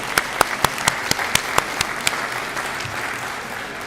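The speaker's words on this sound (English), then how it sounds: "Let's give a big round of applause." Applause at a Nova Southeastern University tribute event, a steady wash of many hands clapping with sharp individual claps standing out near the start before easing off.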